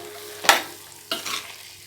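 A spoon scrapes and stirs fried masala through soybeans in a pan twice, over a faint sizzle.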